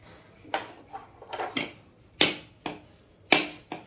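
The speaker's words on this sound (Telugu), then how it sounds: "కొబ్బరికాయ అయితే కొట్టేసాను." A coconut struck hard against something to crack it open, a series of sharp, close cracking knocks at uneven intervals, several of them loud and abrupt, with no talking.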